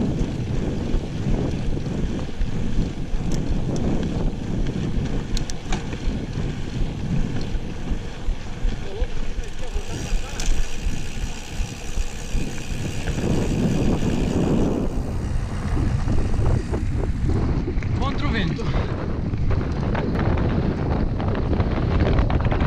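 Strong wind roars continuously against the microphone while mountain biking on a trail, loud and close, with buffeting that swells and shifts throughout.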